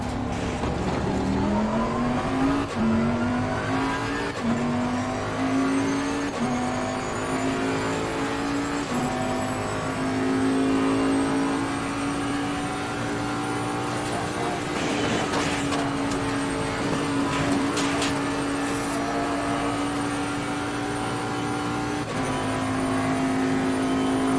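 A Bentley GT3 race car engine in the Assetto Corsa Competizione racing game drones loudly and continuously, stepping up through gears early on and then holding a steady high-revving whine with brief dips under braking.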